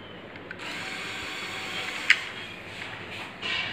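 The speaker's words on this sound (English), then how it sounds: "There's the tipper function, and the lid of the tipper tilts down as the tipper goes up." Small electric motor in a Lego model Tata 1613 Indian lorry raises the motorized tipper, giving a faint, steady whirring whine with one brief click partway through.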